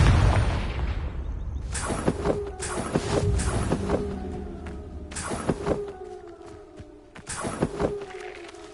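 Repeated booming blasts of the Confringo fire spell in Hogwarts Legacy, several sharp explosive bursts with thuds spaced a second or two apart over a rumbling game soundtrack.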